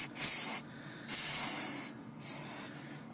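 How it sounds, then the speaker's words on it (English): Oil sprayed from an aerosol can onto a strut assembly of an MK7 Golf R with DCC, three separate close hissing bursts, each about half a second to a second long, with short pauses between them. "the next thing you gotta do is spray some oil here"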